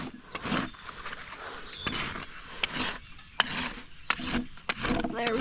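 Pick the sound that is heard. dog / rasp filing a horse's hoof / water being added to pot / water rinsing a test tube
rasp filing a horse's hoof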